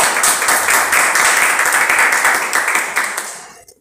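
An audience applauds warmly at a children's Mother's Day performance at a school, dense close clapping that holds steady for several seconds before tapering off and ending abruptly.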